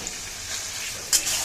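Potato pieces sizzle steadily in hot oil in a pan for a Bengali aloo dum style dish, with stirring scrapes and a louder sputtering flare near the end, close and continuous without talking.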